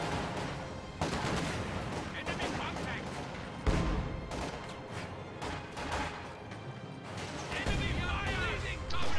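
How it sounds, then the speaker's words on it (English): Anti-tank rifles and Panzerschreck rockets trade fire in a Company of Heroes battle, loud repeated cracks and booming blasts over constant battlefield rumble, with a voice talking throughout. "PTRSs and Panzer Shreks sniping each other in this engagement"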